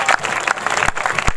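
Loud, dense clapping from a church congregation at a live healing service, a brief burst of many hands at once.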